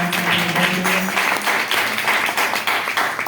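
Applause from an audience at a devotional garba and bhajan gathering: dense, steady clapping from many hands, fairly loud and sustained, with faint voices mixed in.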